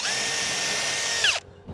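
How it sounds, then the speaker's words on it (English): A power drill whines steadily as it bores a hole into a wooden window during a rot repair, close and loud, then winds down and cuts off abruptly near the end. "Drill a hole here and here"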